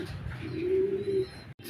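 A racing pigeon arriving at its loft in Calauag, Quezon gives a soft, close coo lasting about half a second, set against quiet background rustle.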